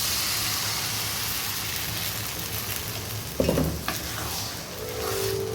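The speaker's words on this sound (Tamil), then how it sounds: "கை விடாமல் கிண்டணும்." Rice flour batter with onion being stirred in a hot pan for savoury rice dumplings, giving a steady close sizzle with a few sharp scraping knocks of the spoon partway through.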